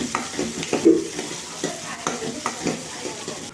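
Cut garlic cloves and a medium onion sauté in a pan with a soft, steady sizzle, broken by repeated scraping stirs from a spoon at close range.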